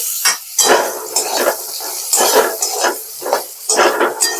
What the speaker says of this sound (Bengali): ঝিঙেগুলো ভেজে নেব।